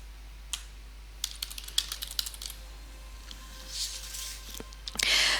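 Scattered keystrokes on a computer keyboard, clicking irregularly in short bursts over a faint steady hum, ending in a louder flurry.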